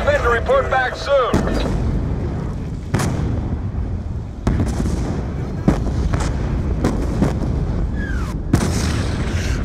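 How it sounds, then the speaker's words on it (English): Mortar fire in Call of Duty Black Ops 2: a string of heavy booming impacts and blasts at irregular intervals over a dense rumbling battlefield bed, with shouted voices briefly near the start. "The mortars have stopped!"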